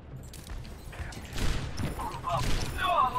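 Widowmaker's rifle firing in Overwatch during a match on the Volskaya map: a couple of muffled, booming shots over busy game noise and ability effects.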